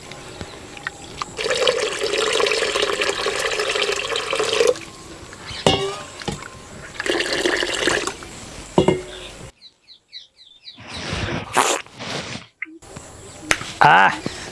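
Water is poured into a pot of raw mango pulusu in a few separate bursts, splashing and trickling, with pauses and scattered kitchen noises between them.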